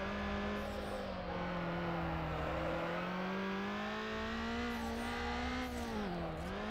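A car in the racing video game Need for Speed Underground holds a loud, steady, high-revving engine drone that rises and dips slightly as it drifts, with no clear tire squeal and no talking.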